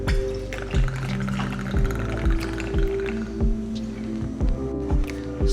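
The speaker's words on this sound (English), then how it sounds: "Followed by some melon liqueur." Melon liqueur poured into a Flaming Lawnmower cocktail already holding watermelon vodka, a steady close liquid pour with several repeated glugging bursts from the bottle, no talking.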